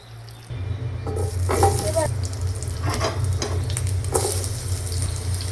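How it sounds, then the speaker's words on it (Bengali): Potatoes frying in oil in a wok with a little salt and turmeric, a steady close sizzle with stirring scrapes, over a low hum. "এই তেলে আলুটা ভেজে নিতে হবে।"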